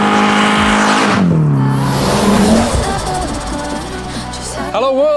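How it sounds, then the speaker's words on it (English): A cammed, carbureted 1900 Peugeot 205 GTI stage rally car revs hard and close, its engine note rising and falling through loud sustained pulls, with a brief squeal near the end. "this is a CAMMED, carbed stage rally Peugeot 205 1900 GTI. This thing sounds absolutely incredible."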